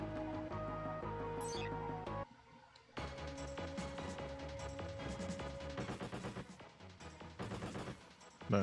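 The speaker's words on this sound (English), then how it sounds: "My machine gun does more damage." Machine gun fire in the mech strategy game Front Mission, a dense rapid burst of shots over game music, pausing briefly before a second longer stretch of loud automatic fire.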